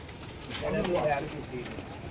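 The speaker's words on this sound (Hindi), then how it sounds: "इसके ऊपर ही वो खोखर का कबूतर है" A pigeon coos softly while settling onto its perch, one short throaty call heard close over steady outdoor background noise.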